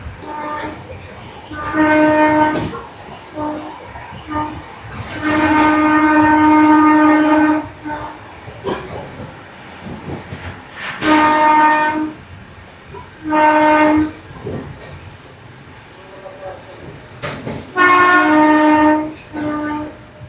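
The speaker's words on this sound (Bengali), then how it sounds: "আমাদের ট্রেন এখন বর্ধমান ছাড়লো" A Vistadome Shatabdi Express passenger train leaving Barddhaman rumbles along steadily while horn-like tones sound in several bursts, loud and near, with a low rolling clatter underneath.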